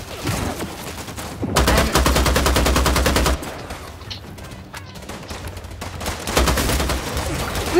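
AK rifle fire in a vampire battle royale video game, loud rapid automatic bursts with rhythmic cracks, close and dense, separated by short quieter gaps.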